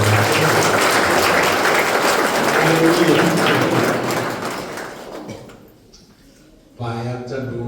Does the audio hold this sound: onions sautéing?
no